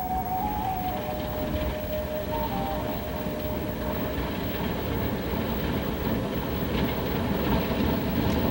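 A steady, continuous rumble of a Baldwin locomotive rolling along desert track near Trona, with a sustained high horn-like tone near the start.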